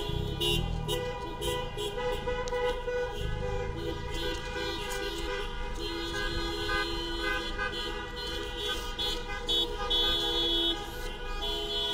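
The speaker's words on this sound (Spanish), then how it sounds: "solamente una especie de caravana con bocinazos, bastante importante en cantidad de gente" Many car horns honk continuously in a large protest caravan of merchants' vehicles in a city street, overlapping toots and long blasts layered over steady traffic noise throughout.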